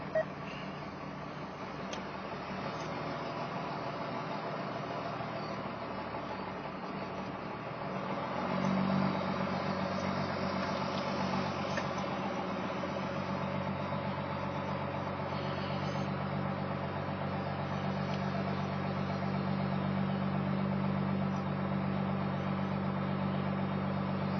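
A truck engine fitted with stacks and a turbo pulls up the road, a fairly faint, steady drone that swells louder partway through and holds a rising whine as it accelerates.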